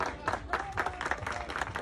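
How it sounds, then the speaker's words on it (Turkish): An audience applauds a special-needs athlete, a fairly faint, steady patter of many hands clapping with some crowd murmur beneath. "Özel sporcumuz için ben bir kez daha kocaman bir alkış alabilir miyim sizden?"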